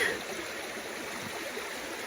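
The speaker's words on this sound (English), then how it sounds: "Maybe mosey down this creek and see where it leads." A creek in the wilderness flows with a soft, steady rushing and burbling of water, fairly quiet and continuous, with no speech.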